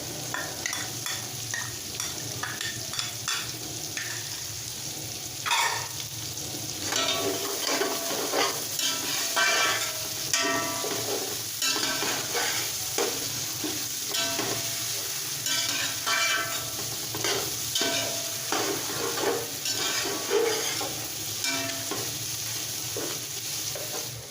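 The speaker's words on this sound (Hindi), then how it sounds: "5 मिनट इसको कुकिंग ऑयल में भूनने के बाद" Steady sizzling of mutton frying in hot cooking oil, with occasional stirring and scraping clatter, continuous and fairly loud throughout.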